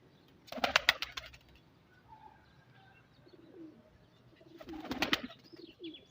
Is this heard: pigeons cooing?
yes